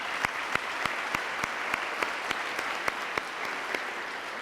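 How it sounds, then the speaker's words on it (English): A crowd at a Father of the Year Awards event claps in a steady, even round, with individual claps standing out at a regular pace over the dense wash of applause. "can we just have another round of applause for what just happened on stage?"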